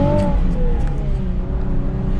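A 2020 Nissan 370Z Nismo engine revs up and then eases back, a loud close throaty roar whose pitch rises briefly and then slides down and settles into a steady idle-like hum.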